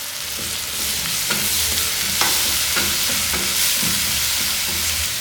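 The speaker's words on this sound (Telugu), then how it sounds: "ఇప్పుడు అది నూనెలో వేగించుకుందాం." A ground mixture of green chilli, fenugreek leaves and mint fries in hot oil, sizzling steadily up close while a spoon stirs it with soft, irregular scrapes and no talk.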